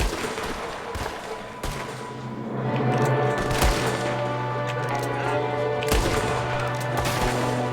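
Gunfire in the video game Red Dead Redemption 2: a few sharp, scattered shots ring out over a continuous bed of in-game ambience and hum, with louder cracks standing out partway through.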